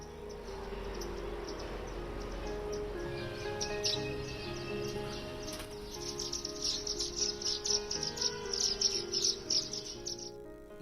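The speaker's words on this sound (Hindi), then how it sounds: "सुंदर सी एक मधुर उनकी आवाज़ अपने को एक चहचहाहट सुनने को आती है" Many birds chirp and tweet in a small garden bird sanctuary home to over forty species, a busy chorus of overlapping calls over a constant insect-like drone, growing into rapid bright bursts toward the end.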